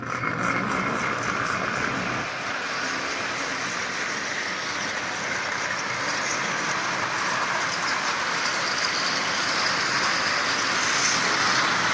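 A Marx 490 toy locomotive with a newly installed headlight and traction tires runs around a rail loop pulling 20 plastic cars, a steady close whirring rumble of motor and wheels on track that grows slightly louder toward the end.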